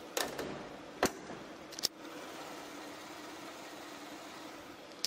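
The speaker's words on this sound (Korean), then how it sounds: "이 정도의 엔진 소음 만나보실 수가 있습니다" A Hyundai Grandeur IG 3.0 LPi taxi-model car engine, running on LPG, idles with the hood closed: a low, steady, muted hum, broken by a few sharp clicks and a thump early on.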